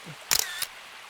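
A camera shutter fires outdoors by flowing water at Twin Lakes Park, giving a sharp mechanical click-clack followed by a second brief click, close and alone.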